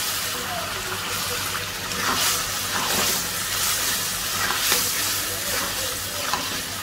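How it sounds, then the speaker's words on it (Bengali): Chicken pieces added to a cooked spice masala with a little water in a pan for a country chicken bhuna, giving a loud bubbling sizzle and stirring clatter that continues throughout with some surging bursts. "এখন দিয়ে দেবো চিকেনগুলো।"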